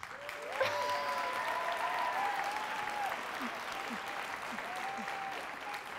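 Audience applause at a children's book award ceremony in Vermont, a steady wash of clapping from a crowd sustained for several seconds, with a voice speaking over it.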